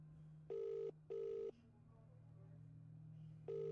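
Phone call ringing in the video game Pleiades: three loud, steady electronic ring bursts, two close together and a third after a pause, over a low constant hum.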